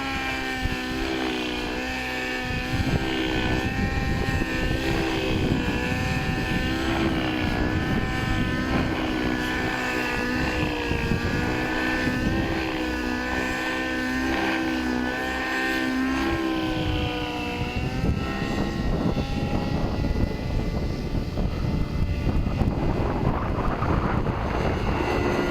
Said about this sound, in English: It's in a 600 size engine, helicopter.